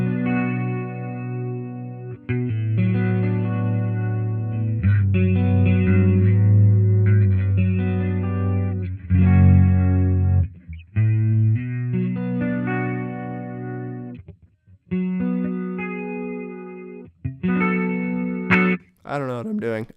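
Electric guitar played through an organ-like modulation effect on a Fractal or Line 6 Helix modeler produces sustained, swelling chords with pauses between phrases. Someone talks intermittently over and between the playing.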